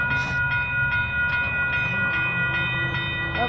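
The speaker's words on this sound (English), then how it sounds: "Might be an Amtrak, you can't tell." Amtrak passenger train passing at a grade crossing, a steady loud rumble with rhythmic clatter and a sustained tonal hum, close by, with no talk.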